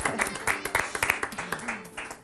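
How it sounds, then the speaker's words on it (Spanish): A television studio audience applauding, with brisk clapping washing over a host's voice that keeps talking through it. "la aplaudimos"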